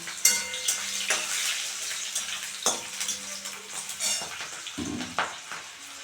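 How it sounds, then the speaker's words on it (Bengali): Chopped garlic and torn green chilies fry in hot oil, giving a steady close sizzle broken by occasional scrapes and clinks of a spatula stirring in the pan, with no voices. "এখন আমি এখানে চার পাঁচ কোয়া রসুন কুচি করে রেখেছি সেটা দিয়ে দিলাম আর দুটো কাঁচা লঙ্কা ছিঁড়ে রেখেছি সেগুলো দিয়ে দিলাম"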